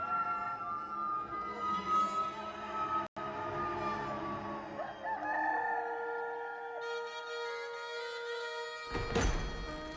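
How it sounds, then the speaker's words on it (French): A rooster crows loudly in a long, drawn-out cock-a-doodle-doo over a musical backing, followed by a sharp thump and a brief burst of noise near the end, with no speech. "Et aussitôt, un coq se mit à chanter."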